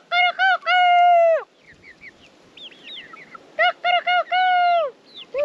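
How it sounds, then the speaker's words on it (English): Close, loud high-pitched calls from a young cockerel, a couple of harmonic crows with softer chirps and clucks in between. "So he is the cockerel we'll be keeping."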